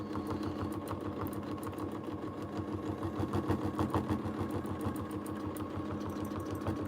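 A sewing machine runs steadily at speed during free motion quilting, its needle clattering in a fast, even rhythm with a brief swell in loudness partway through as it crosses the seam allowance.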